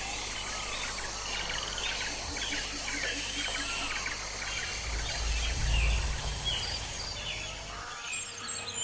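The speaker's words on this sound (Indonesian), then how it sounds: "Suara burung menjadi iringan yang sangat harmonis, seperti nyanyian angin di jalur Katulistiwa." Morning birdsong in a bright outdoor setting, scattered chirps and tweets over a steady hum of insects and a low rumble, faint and continuous throughout.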